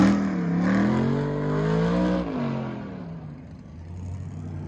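A 1964 Summit Racing Corvette on an autocross course, its engine droning and rising and falling in pitch as it accelerates and lifts off, loud and fairly close before fading into the distance.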